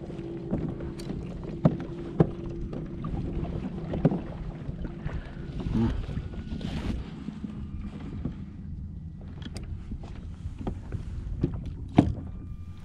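A fishing kayak backing away near mangroves, with gentle water swishes and a few sharp knocks from paddle or hull over steady wind noise, no voices.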